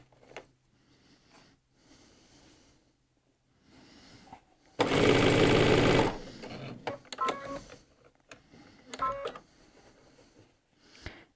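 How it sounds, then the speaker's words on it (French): A sewing machine runs in one loud continuous burst of about a second while stitching the border of a Tamarack jacket around the hood, set among quieter handling clicks and rustles. "On peut coudre tranquillement"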